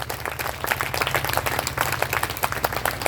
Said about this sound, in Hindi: एक बार जोरदार करतल ध्वनि उनके लिए।